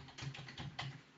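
Quiet, close keystrokes from a computer keyboard during order-number data entry in Business Central, a short run of taps with no talking.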